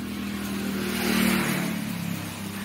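A Hero Maestro scooter engine, just refitted after half engine work, idles with a steady mid-pitched hum that swells briefly in a short rev, then settles back, close and alone.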